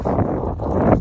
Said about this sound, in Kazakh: Жел шыққан